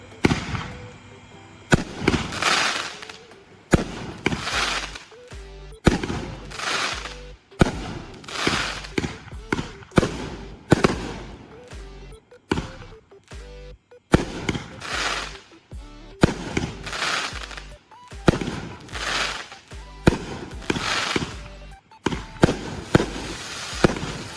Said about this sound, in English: Now it is a fan cake, so definitely even with this one, you can expect some very impressive sky filling effects.